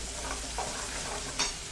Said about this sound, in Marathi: यातलं निम्म वाटण फोडणीत टाकायचं